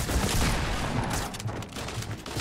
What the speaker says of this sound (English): Who the fuck is shooting PewDiePie?